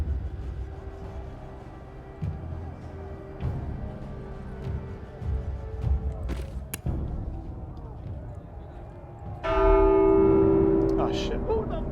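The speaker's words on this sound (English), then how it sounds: "Who the fuck rang the bell?" A church bell rings inside a video game, entering late as a loud, resonant strike that hangs over a busy background of footsteps and movement.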